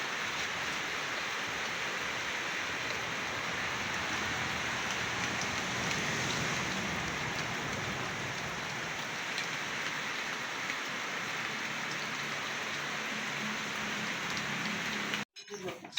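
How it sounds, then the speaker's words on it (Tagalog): Steady rain falls continuously, a dense hiss of drops on surfaces, fairly close, ending with a brief thump. "Maulan na, may hangin po mga kapiks."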